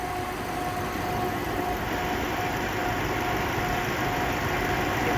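A Chevy Malibu engine runs at idle with its AC compressor spinning, giving a steady, close mechanical drone with a faint whine over it, unchanging for the whole stretch.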